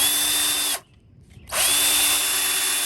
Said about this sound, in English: I want to drill it first.